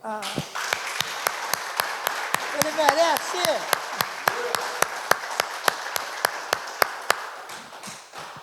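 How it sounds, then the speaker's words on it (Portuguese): A church congregation applauds in steady, rhythmic unison, sharp regular claps over a broad crowd wash, with voices calling out and a brief sung or shouted phrase under the clapping. "Vamos aplaudir o Senhor?"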